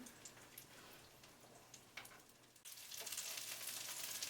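Egg-battered shrimp (Korean saewoo jeon) fry in a pan with a steady low sizzle and scattered crackles, growing louder and denser in the final second and a half; no talking.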